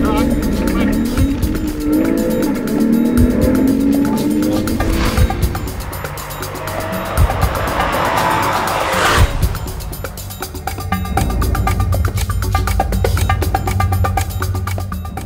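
Porsche Cayman S pushing hard on a closed tarmac stage at Targa Tasmania, its engine roaring loud and steady from inside the car, with a brief surge and whoosh near the middle over continuous wind and road noise.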